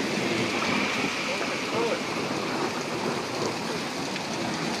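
Hail pelting down during a thunderstorm on a holiday, a dense steady roar of hard pellets striking surfaces all around, loud and constant, with excited voices under it.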